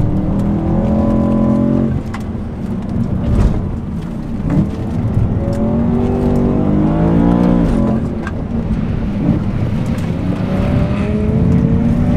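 BMW M3 E92 V8 driven hard, a loud continuous in-cabin engine roar with rising and falling revs as it accelerates and shifts, steady and close throughout.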